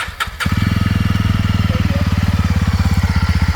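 A Yezdi Roadster motorcycle engine cranks briefly, then fires up and settles into a loud, steady, deep thumping idle with a regular pulsing beat.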